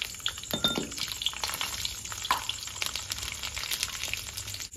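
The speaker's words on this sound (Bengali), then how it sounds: "রসুনটা ভাজা করবো আমি আগে" Garlic frying in mustard oil in a wok, the first step of a fish dish, gives a steady, close sizzle with a few stirring scrapes and clicks, and no one speaks.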